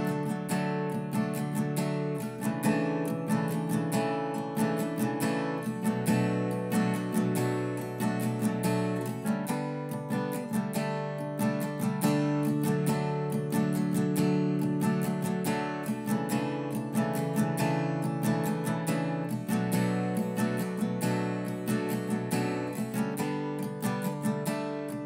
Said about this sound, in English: And the strum pattern for that will sound like this.